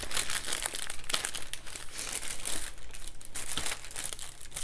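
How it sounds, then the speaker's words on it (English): Deli paper being crinkled and handled close up while it is laid onto a painted journal page, a steady busy rustle with sharper crackles throughout and no talking. "I am gonna put this deli paper onto this page"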